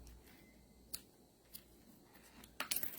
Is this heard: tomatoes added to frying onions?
no